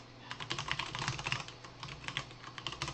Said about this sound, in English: Let me type that in there